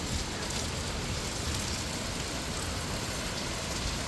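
Steady, dense rain pours during a severe thunderstorm, a constant hissing wash on surfaces with no pauses or voices.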